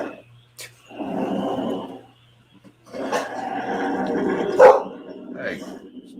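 A dog barks in short bursts during a live gaming stream, the barks loud and near with a person's voice mixed in.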